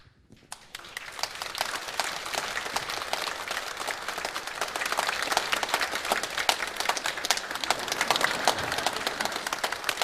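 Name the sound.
congregation applauding gift presentation in church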